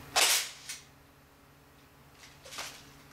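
A plastic airsoft magazine hooks onto the front lip and clicks into a Cyma spring AK rifle: a sharp click, a smaller one right after, then a quieter pair of clicks near the end.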